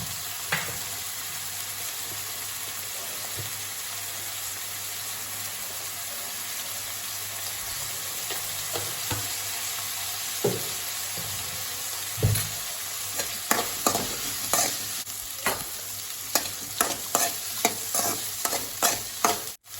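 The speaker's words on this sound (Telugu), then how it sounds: "కట్ చేసి పెట్టుకున్నటువంటి వంకాయ ముక్కల్ని కొద్దిగా పసుపుని వేసి వేయించుకోవాలి" Brinjal pieces with a little turmeric fry in a pan with a steady sizzle, while a spatula scrapes and stirs in sharp clicks that become more frequent toward the end; no one speaks.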